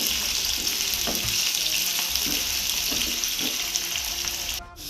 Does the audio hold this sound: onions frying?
yes